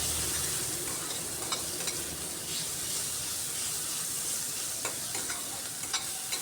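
Onion, garlic and ginger with a pinch of salt fry gently in a pan, a soft continuous sizzle broken by occasional light scrapes and taps of a stirring spoon, close and fairly quiet.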